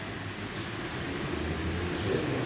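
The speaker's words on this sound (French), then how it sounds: "D'ici, on peut voir la métro," A Paris Métro train rumbles steadily at Place de la Bastille, a continuous low roll with a faint high whine, heard from a distance amid city ambience.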